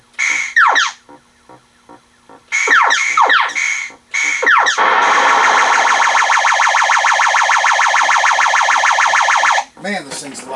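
A 1979 Taito Space Invaders arcade machine, with a color three-board stack under repair, plays loud electronic sounds up close: rapid descending zaps and chirps, then a long pulsing warble lasting several seconds before ending in a final swooping tone.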